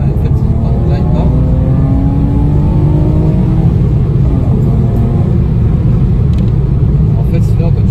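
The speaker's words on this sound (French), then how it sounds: "c'est un moteur Vanos" A BMW E36 with a Vanos engine accelerates hard while driving, its engine tone climbing under a loud, constant interior rumble, with a voice speaking over it.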